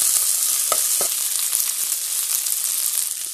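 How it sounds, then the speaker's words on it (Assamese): Vegetables and peas with onion, bay leaf and dried red chilli frying in oil in a pan, a steady loud sizzle with a few sharp scrapes of stirring near the start. "এইখিনি এতিয়া ভাজিম ভালকৈ।"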